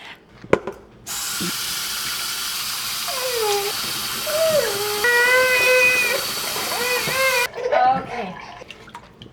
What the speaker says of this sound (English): I'm going to fill this up with water and start boiling it